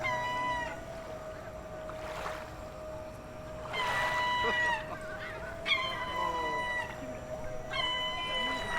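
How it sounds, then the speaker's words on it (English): Seagulls in Turkey call repeatedly in harsh, laughing squawks and long wails, several birds overlapping in bursts over a steady low hum, with the loudest cries clustered near the middle and end. "I learned what it takes to make Turkish seagulls go absolutely berserk and swoop down from the sky."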